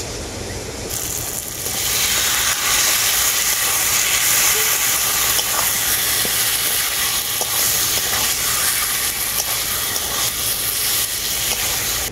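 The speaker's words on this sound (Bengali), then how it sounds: "এখন ম্যারিনেট করা মাংসটা আমি এর মধ্যে দিয়ে দেব।" Marinated chicken meets hot fried masala for a Bengali chicken curry, and a loud, close hiss swells within the first two seconds, then holds as a dense, steady sizzle to the end.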